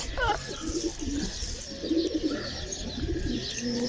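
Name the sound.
pigeons cooing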